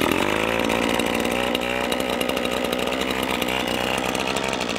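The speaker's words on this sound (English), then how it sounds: "Too big for the string trimmer." A string trimmer whines at a constant high pitch while cutting through brush, loud and close, running continuously without pause.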